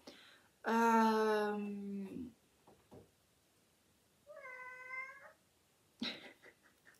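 A cat meows loudly up close with a long drawn-out call, followed by a shorter softer meow and a brief final cry, separated by quiet pauses.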